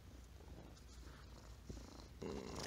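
A cat purrs right up against the camera while rubbing on it, a soft steady close-up rumble with brushing bumps and a louder scrape near the end.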